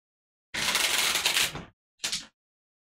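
Decks of Mindbug dueling game cards are shuffled together: a loud, close riffle of about a second, a short pause, then a brief second riffle.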